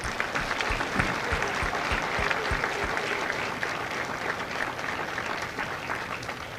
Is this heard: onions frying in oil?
no